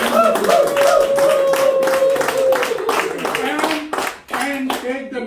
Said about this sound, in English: Can we give a clap to all of them?